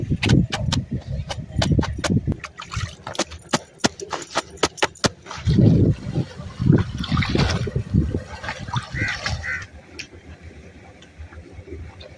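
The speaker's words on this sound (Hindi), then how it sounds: "मैं बड़े मजे नाल बह के ना कपड़े धो रही" Clothes are washed by hand in water outdoors, with repeated wet slaps, scrubbing and splashing in uneven bursts, fairly close and loud, with faint background sounds in between.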